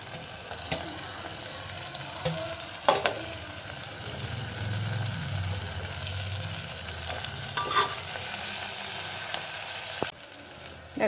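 Tomato fries in a pan for a Bengali soybean curry, a steady close sizzle with scraping stirs and occasional clinks of the spoon, fading slightly near the end.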